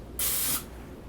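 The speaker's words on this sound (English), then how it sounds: "You spray some of this onto a plastic bag." A single short burst of cooking oil spray hits a plastic sandwich bag, a sharp bright hiss lasting under half a second before fading to quiet.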